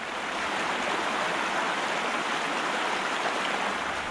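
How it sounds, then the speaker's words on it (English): A steady, full rush of cascading water from a waterfall and narrow streams in a Jharkhand forest, continuous and close, with no voices or other sounds. "The sound of the cascading water and narrow streams seems like soulful music"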